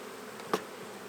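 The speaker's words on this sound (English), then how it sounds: "See them fanning, a lot of Nasanov fanning going on here." Honey bees from a backyard swarm buzz and fan at the hive, a soft continuous insect hum with two brief louder bursts as bees pass close.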